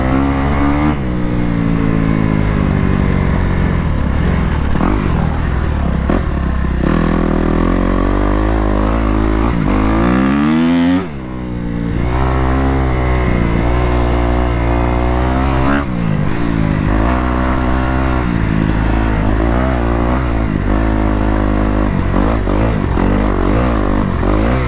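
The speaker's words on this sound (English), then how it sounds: "Forgot what this bike sounded like." Kawasaki KX250X dirt bike engine revving loudly and continuously up close, pitch rising and falling through repeated throttle blips with one brief dip, no talking.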